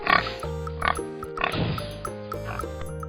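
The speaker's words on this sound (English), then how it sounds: "pigs say oink" Penny the pig grunts and oinks in a muddy farmyard, several short snorts in quick succession, close and clear against a bright, cheerful musical backing.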